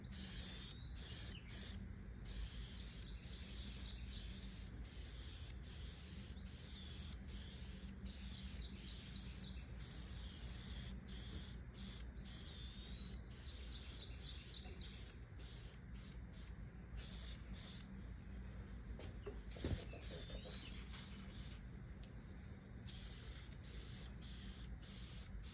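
Leather car seats get a second light, thin coat of colorant from a spray gun, a steady hiss broken by short regular pauses between passes, with faint birdsong in the background.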